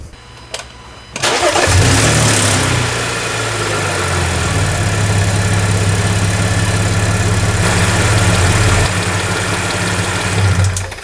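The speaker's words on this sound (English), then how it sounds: "now we're going to turn the car on, let it run for about 15 minutes" An Audi 3.0T supercharged engine in a C7 or B8 car cranks briefly and catches, flares up loudly, then settles into a steady, close idle with a slight rise near the end.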